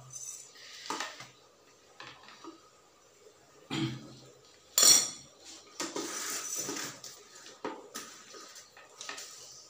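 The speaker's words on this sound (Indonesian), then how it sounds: "Masukkan sendok, posisi terpisah semua, atas bawah terpisah" Metal spoons clink and clatter as they are dropped into a container one after another, with several sharp, bright strikes spaced irregularly and a louder clatter near the middle, close by and without talk.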